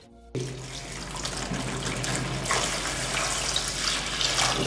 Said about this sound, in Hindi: तो चलिए इस यहाँ पे अभी पानी को गिराता हूँ